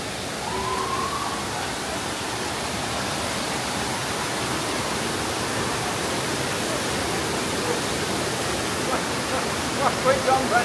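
Namaste Jharna waterfall near Dharan gives a steady, broad rushing roar of falling water, constant and fairly loud throughout, with faint voices and small clicks near the end.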